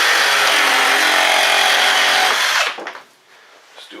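A Milwaukee M18 Fuel cordless reciprocating saw cuts hard and fast at full speed in a speed test, roaring loudly for over two seconds before the blade stops and the motor winds down, leaving a few faint clatters.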